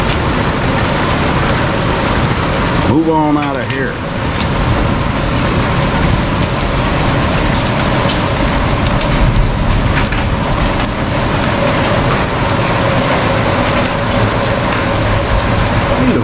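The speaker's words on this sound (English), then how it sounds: "Been pretty lucky with hail lately, but now here it comes. I see it hitting." Hail and heavy rain hammer down on a homestead during a small storm, with stones striking a truck, a dense loud roar that holds steady throughout while someone speaks briefly near the start.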